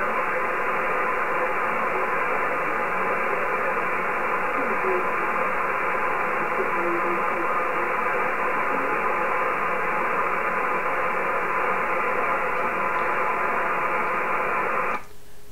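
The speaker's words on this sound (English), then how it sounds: "I got the radio way up so I can try to hear his voice." Ham radio receiver on the HF bands turned way up, giving a loud, steady hiss of static and noise with no voices for about fifteen seconds before it briefly drops.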